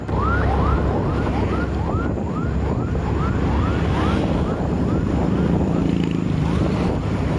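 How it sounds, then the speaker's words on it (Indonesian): An ambulance siren wails, sweeping up and down repeatedly, steady and fairly close, over loud engine and road noise, with faint voices underneath. "waduh ini ada ambulan lagi"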